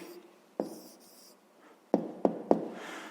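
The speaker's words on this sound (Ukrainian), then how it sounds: "Пишемо відповідь." Pen strokes as an answer is written out by hand on paper for a fifth-grade maths exercise, a soft scratch followed by several sharp, close taps and scribbles in quick succession, alone without talk.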